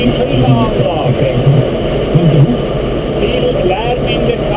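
A 1982 Same Leopard tractor with a four-speed gearbox and no air conditioning, heard from inside the cab while rolling in seed with a prism roller. A steady, loud engine drone fills the cab throughout, with a person talking over it.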